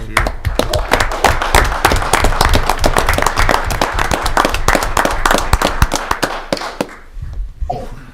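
Audience applause at a town council meeting in St. John, Indiana, a loud burst of many hands clapping that fades and thins out toward the end, with a few scattered claps and faint voices.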